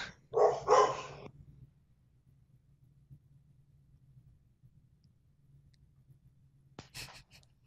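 Dogs barking at home: two loud, close barks in quick succession open, followed by several seconds of near silence and a faint background hum, then another short sharp burst near the end.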